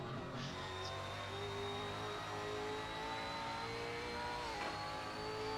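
A Supercars racing car engine at Queensland Raceway drones steadily at high revs, with its pitch dipping and climbing as it shifts down and up through the gears into the turns, loud and continuous with no talk.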